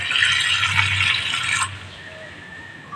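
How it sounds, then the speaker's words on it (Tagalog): Water runs from a faucet in a steady splashing stream for about a second and a half, then cuts off, leaving a quiet space with a faint trickle and drip near the end. No speech. "At ito na rin gripo, natulo na rin siya"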